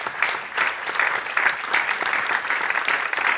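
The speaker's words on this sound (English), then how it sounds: "que je vous demande d'applaudir chaleureusement" A conference audience at a European music event applauds warmly, with dense, steady clapping from many hands that holds evenly throughout, and no voices above it.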